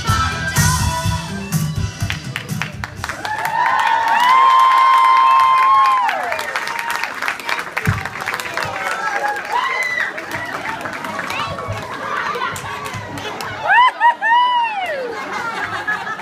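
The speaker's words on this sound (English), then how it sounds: "Let's keep a round of applause going" An audience at a variety night applauds and cheers in a dense, loud wash of clapping. Whoops and laughter rise over it, and a voice speaks over the crowd.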